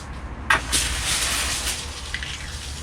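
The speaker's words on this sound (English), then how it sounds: "Now I'm going to add some water." Water poured into soil block mix in a wheelbarrow, a steady hissing gush that starts suddenly and runs to the end, close and moderately loud.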